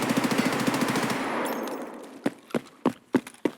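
An MPX submachine gun fires in Escape From Tarkov, a rapid sustained automatic burst followed by several single sharp shots spaced about a third of a second apart, loud and close.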